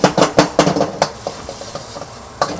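A metal utensil clatters and scrapes in a rhythmic run of quick strokes as ketchup fries in oil in a hot wok for a beef and tomato stir fry, with faint sizzling underneath.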